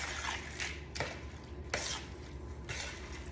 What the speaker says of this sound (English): I'm just gonna stir this around really well